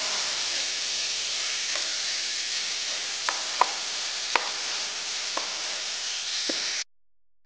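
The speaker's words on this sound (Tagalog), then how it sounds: "So, igisa ko lang po itong ating mga mixed veggies po." Mixed vegetables sautéing in a pan for vegetable lumpia: a steady, close sizzling hiss with occasional light clicks of a utensil stirring, cutting off abruptly at the end.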